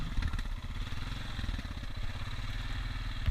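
A four-wheeler ATV engine runs with a steady, close, throbbing low rumble and a faint clatter while riding at a creekside, with no talk.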